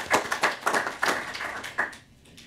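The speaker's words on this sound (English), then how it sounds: "let's give a big applause and appreciation to this safe transition" At a conference panel, a small audience gives a short, sparse round of clapping. A handful of distinct, fairly close claps fade out within a couple of seconds.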